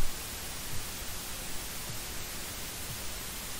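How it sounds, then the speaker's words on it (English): Harsh TV static hiss fills the scene in the horror game Dying Of Thirst, a loud, unbroken wash of white noise that holds steady throughout with nothing else heard. "That white noise is really painful to my ear."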